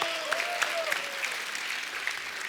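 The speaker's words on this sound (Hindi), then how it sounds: "उनके लिए जोरदार तालियां एक बार।" A studio audience on a TV comedy show claps in sustained, even applause, with a voice briefly heard over it.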